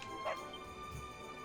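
Bullseye, a dog in Dragon Quest XI S, gives a short, quick bark or yip, faint and brief against soft background game music.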